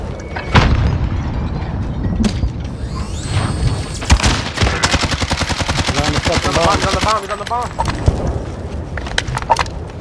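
Video game gunfire in a bomb-defusal round: rapid bursts of automatic fire and sharp single shots crack loudly over game effects, with a voice talking faintly in the background.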